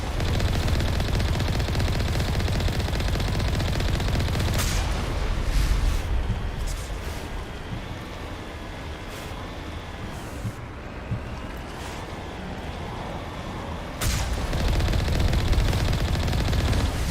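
Enemy gunfire in the video game Mass Effect Legendary, a dense sustained barrage of rapid shots and blasts under a continuous roar, easing slightly midway and then surging loud again near the end.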